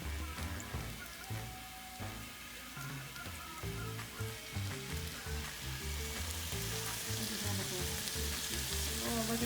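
Sausage, onions and quinoa sizzle and crackle steadily in a hot pan, a dense continuous frying hiss with occasional stirring scrapes, close and loud with no talk.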